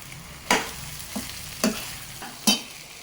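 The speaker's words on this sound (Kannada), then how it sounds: "ಈಗ ಬೇಯ್ದಿರ್ತಕ್ಕಂಥ ಹೆಸರು ಕಾಳನ್ನು ಹಾಕ್ಕೊಳ್ತಾ ಇದ್ದೀನಿ" Cooked green gram tipped into capsicum frying in a pan for a Karnataka-style hesaru kalu palya, heard as three distinct scraping stirs against a low steady sizzle, with no talking.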